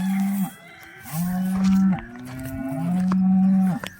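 A Holstein Friesian cow with black and white patches, recently calved, gives three loud, drawn-out moos close by, each lasting about a second, with short pauses between them.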